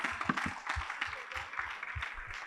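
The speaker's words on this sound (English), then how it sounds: "Let's have a round of applause." Audience applause at a regional quiz competition, a steady wash of clapping from the crowd with a voice talking over it throughout.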